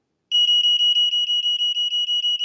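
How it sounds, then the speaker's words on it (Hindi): An electrical wiring tester pen sounds its alarm, a loud, close, piercing electronic beep pulsing rapidly and steadily about every fifth of a second after a short silence, with no voices. "तो ये अलार्म भी देता है।"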